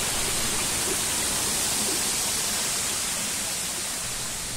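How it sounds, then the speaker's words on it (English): A waterfall along the Palisades, its close, continuous rushing roar steady and loud throughout with no other sounds standing out. "Half of the beauty of a waterfall is in its sounds."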